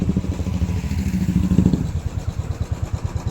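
A motorcycle ridden on a foggy mountain road near Ghum, Darjeeling, its engine a steady close, loud, throbbing chug that stays even throughout, with no talking over it.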